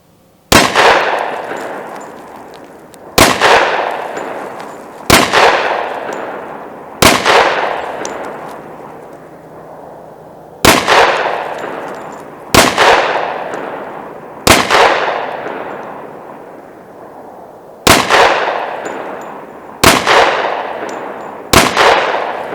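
Springfield XDM 5.25-inch 10mm pistol shots ring off steel targets outdoors, about eleven loud, sharp reports at uneven intervals of two to three seconds, each followed by a long ringing decay.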